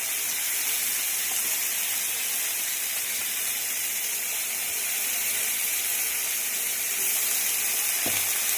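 Fish frying in a pan: a dense, steady sizzle and hiss of hot oil, close and continuous, with a faint clink or stir near the end and no talking.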